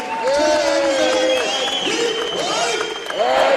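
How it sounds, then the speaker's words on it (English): Crowd applause for a championship basketball team at a Morgan State Bears versus North Carolina A&T Aggies game, a continuous wash of clapping under loud, sustained voices and cheering. "Let's give one big round of applause to this championship team"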